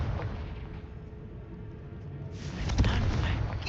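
A Confringo blasting spell in the video game Hogwarts Legacy bursts with a muffled explosive boom partway through, followed by a rumbling crackle, over low ambient game sound.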